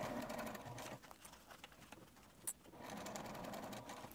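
A sewing machine stitches a fabric pouch in steady whirring runs, with a brief slowdown in the middle before the motor picks back up to a continuous hum.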